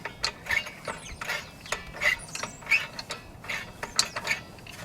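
A tool pries a star adjuster upward on the parking brake of a Nissan Altima, producing a series of quick close ratcheting clicks with uneven spacing, some sharper metallic ticks among them.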